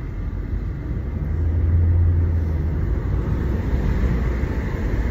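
A utility truck engine gives a steady low rumble that swells slightly midway and continues evenly, with no talking over it.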